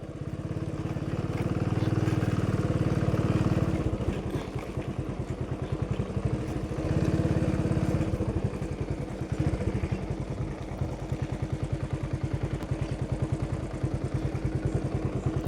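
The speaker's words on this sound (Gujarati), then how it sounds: "આ ટ્રેક્ટર પીડ્યું છે અહીંયા ડુંગળી માટે, સ્પેશિયલ ટ્રેક્ટર છે" A special onion-field tractor engine runs steadily close by, a continuous mid-pitched drone with a fast mechanical clatter pulsing through it; the throttle eases slightly partway through.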